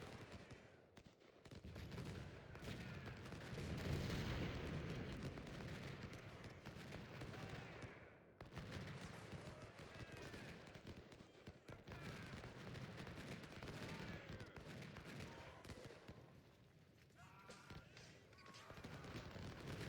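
Battle din from Ultimate General: Civil War, with Union cannons firing grape shot at close range amid musket volleys, a dense continuous roar of gunfire and crashes lasting throughout, fairly loud with a brief lull midway.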